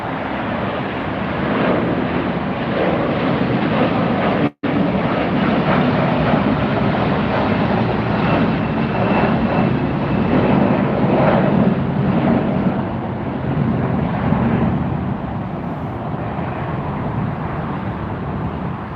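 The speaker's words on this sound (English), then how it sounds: "Here goes our SAS departure off to Copenhagen." An SAS jet airliner departing Los Angeles International Airport for Copenhagen gives a loud, steady, continuous engine roar that holds for the whole stretch, with no voices over it.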